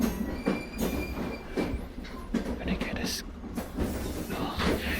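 A runaway train rumbling along the tracks, with a heavy continuous roar, clacking wheels and squealing metal, while voices talk over the noise.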